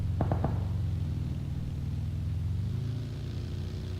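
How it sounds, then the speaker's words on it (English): A buggy drives past in PUBG, a low engine rumble that swells and slowly fades, with a few sharp knocks near the start. "It's Sounds like a buggy."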